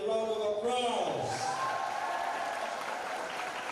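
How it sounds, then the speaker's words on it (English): A school audience at a music, dance and drama event breaks into a round of applause, a steady spread of clapping that rises as an amplified voice fades out at the start. "Once again, a round of applause."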